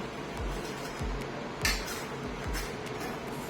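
A knife scrapes around the edges of steamed dhokla in a metal plate, giving several light metallic scrapes and clinks at a fairly regular pace, close and quiet.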